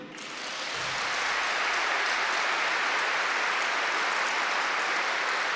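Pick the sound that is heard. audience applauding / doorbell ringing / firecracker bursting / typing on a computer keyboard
audience applauding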